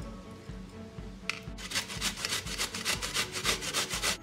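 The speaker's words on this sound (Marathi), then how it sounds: "आता ही कैरी किसून घेऊया." Raw mango being grated on a coarse grater for traditional gulamba: quiet at first, then a run of rapid, rhythmic rasping strokes, close and steady, over a low repeating background hum.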